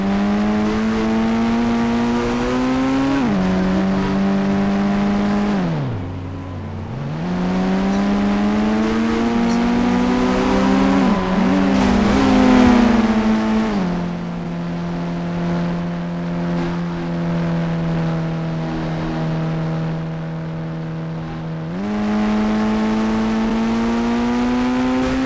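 A Porsche car engine in the Indian Bikes Driving 3D video game, a loud steady drone that drops sharply in pitch a few times as it shifts or slows, then climbs back, continuous and close.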